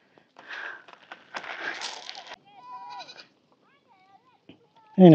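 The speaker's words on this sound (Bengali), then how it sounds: "এইখানে হচ্ছে গরু ছাগল" Goats grazing alongside cattle in Kenya, with several short wavering bleats heard between bursts of rustling and handling noise, ending in a loud close bleat.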